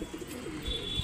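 Soft, low cooing from a pigeon, a Punjab-bred high-flying bird, murmurs on and off for about a second, fairly quiet and close with no talk over it.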